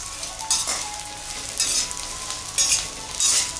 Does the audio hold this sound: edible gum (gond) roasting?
yes